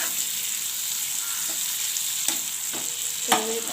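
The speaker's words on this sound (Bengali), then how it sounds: "তো একটুখানি ভাজা হয়ে যাক ভালোভাবে, দেখতে থাকুন।" Onions and tomatoes fry in a pan for a fish-head pumpkin-greens curry, giving a steady close sizzle with a few sharp stirring knocks and scrapes and no talking.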